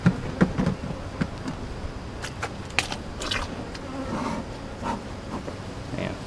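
Honeybees buzz around an open backyard hive during an inspection, a steady close insect drone with brief individual bees passing near, plus occasional soft knocks and handling sounds; no talking.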